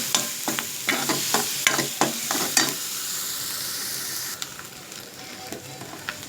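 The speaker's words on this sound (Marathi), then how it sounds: "एकदम छान परतू द्यायचा मसाला पण टाकून" Village chicken sizzles in a pan with homemade masala while a spoon stirs, loud frying hiss with a series of sharp scraping clacks, then steadier quieter sizzling.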